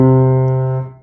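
A single sustained piano chord rings out and slowly decays, low notes prominent, before fading away; no talking.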